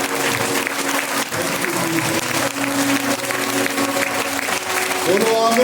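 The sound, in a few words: congregation clapping loudly in church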